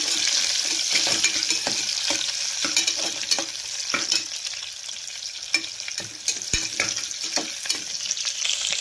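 Onions, green chillies and fenugreek frying in a pan while being stirred, a continuous close sizzle with frequent rhythmic spatula scrapes and clicks throughout, no talking.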